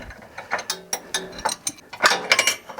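Ratchet wrench fitted with an extension tightening an engine mount bolt, a series of loud close metallic clicking pawl bursts in uneven strokes as the handle is pulled hard, with no talking.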